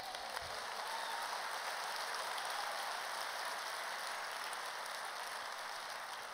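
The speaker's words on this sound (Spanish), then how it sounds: "Dale un aplauso a Cristo" A church congregation claps for Christ during a worship service, a steady, dense wash of applause that holds evenly throughout without any voices.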